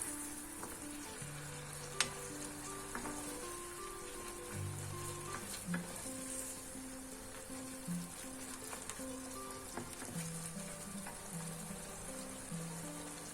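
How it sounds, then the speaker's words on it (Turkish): Ground meat fries in its own fat and juices in a pan, a soft, continuous sizzle with scattered crackles and pops heard close up, while faint tonal background music plays underneath. "Kendi yağı ve suyunda pişiyor şu an."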